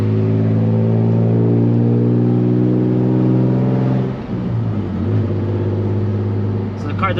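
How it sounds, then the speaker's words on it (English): A Nissan 350Z with a built turbo engine and an exhaust leak idles loudly and close by with a steady droning tone, then the note shifts and a person speaks. "So the car does have an exhaust leak."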